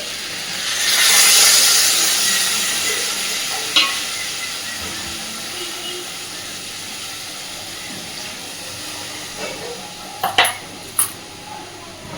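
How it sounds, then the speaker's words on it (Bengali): Water poured into a pan of frying potato and pointed gourd curry with mustard-poppy paste gives a loud hiss and sizzle that swells and fades over a few seconds, followed by quieter bubbling and a few sharp utensil clinks. "দিয়ে দেবো একটু জল।"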